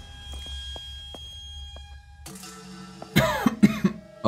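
A person indoors coughs in a burst of several rough, loud coughs near the end, after a quiet stretch with faint background hum and scattered light ticks.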